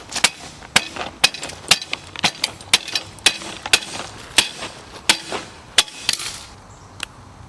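A hammer striking a bolt to knock it out of a car bucket seat, about a dozen sharp metallic blows at an uneven rhythm, close and loud with no talk.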